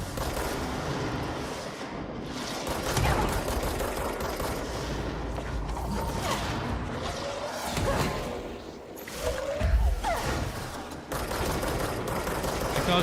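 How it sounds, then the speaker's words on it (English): Dense, sustained machine-gun fire from the video game Control, with rapid bursts layered over a noisy combat mix for several seconds, while voices talk over the action. "I accidentally used the machine gun"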